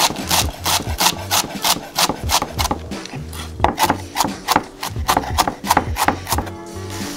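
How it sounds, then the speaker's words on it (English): A knife chopping a tightly rolled bunch of cilantro finely on a cutting board, a quick steady run of close, crisp thuds and scrapes with no voice over them. "To cut cilantro, what you're gonna do is roll it in a bunch, tight as possible, and then cut away as finely as possible."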